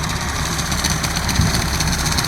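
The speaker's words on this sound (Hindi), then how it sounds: "ये चल रहा है हमारा कल्टीवेटर जॉन डियर 105 4x4 में।" A John Deere 105 4x4 tractor runs with a cultivator during field preparation after the paddy harvest. Its engine gives a steady, close, continuous diesel drone with no pauses and no voices.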